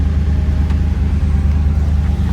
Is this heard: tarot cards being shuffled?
no